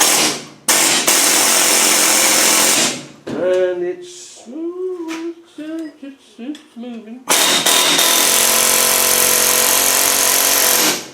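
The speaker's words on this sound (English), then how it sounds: "So I've got another wedge type chisel here. I'm going to put one on top of the other and see if I can get this apart." Wedge-type chisels stacked one on top of the other are hammered against a very rusty bolt on an upper fulcrum bracket, giving loud, dense metallic clatter in two long bursts with someone talking in the quieter stretch between them.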